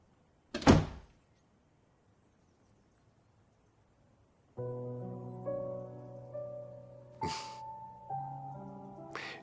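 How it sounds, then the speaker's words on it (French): One sharp, close thud as a door shuts, then quiet for several seconds before soft music comes in, with another brief knock or impact during the music. "ferme la porte"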